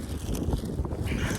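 Strong wind at an icy mountain pass in Yakutia buffets the microphone with a loud, constant low rumble and uneven gusty roughness, with no clear voices over it.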